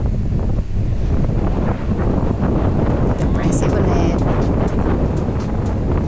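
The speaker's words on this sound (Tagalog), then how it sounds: "ang lakas ng hangin dito at ang lamig" Strong, cold wind on Tarak Ridge mountain buffets the microphone in a constant low roar, with a person speaking briefly over it and a faint high whistle midway.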